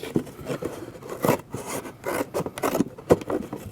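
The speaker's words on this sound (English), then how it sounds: "You're just going to want to cut the top off of it." Scissors cutting the top off an empty juice or milk carton, an irregular series of close, crisp snips and scraping rustles with no speech.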